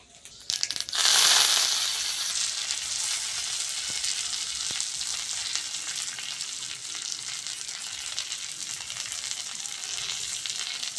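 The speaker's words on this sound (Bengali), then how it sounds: "আবারও এইরকম একইভাবে ভেজে নেব সবগুলো" Loud, continuous sizzle of snacks deep-frying in a pan of hot oil for a Korean-style children's school tiffin, bursting sharply at the start and then settling into a steady crackling hiss with no talking.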